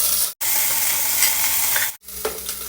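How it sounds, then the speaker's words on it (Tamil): Ginger garlic paste sizzling in hot oil with fennel seeds and curry leaves in a pressure cooker, a steady loud frying hiss with stirring scrapes, briefly cut twice. "அப்புறமா இஞ்சி பூண்டு பேஸ்ட்,"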